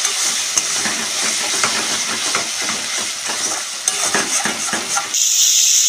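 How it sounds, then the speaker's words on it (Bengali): Tomato paste fries with ginger and garlic in a pan while being stirred, a loud continuous sizzle and hiss with scraping strokes, ending in a bright steamy hiss. "টমেটোর পেস্টটা দিয়ে দেবো, টমেটোটা দিয়েও এরকম কিছু নেড়ে চেড়ে ভেজে নেব"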